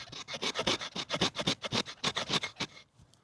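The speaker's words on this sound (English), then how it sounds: "do some really fine scrapes like this" The 90-degree spine of a Worktuffgear Forrester bushcraft knife scrapes fine shavings from wood in quick, rhythmic rasping strokes, about a dozen close, dry scratches in a row before stopping.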